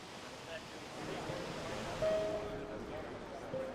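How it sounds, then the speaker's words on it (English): Wind gusts outdoors in Belém, a steady broadband rush with slight swells, with a faint voice murmuring in the background. "Looks like it's getting windy."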